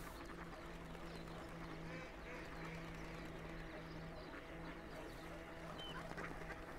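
Ducks on a small unfrozen stream in spring, quacking faintly and sporadically under steady outdoor ambience and running-water noise.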